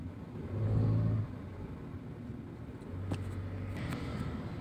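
A car pulls slowly out of a parking lot, its engine rumbling and whirring at low volume with a couple of gentle revs.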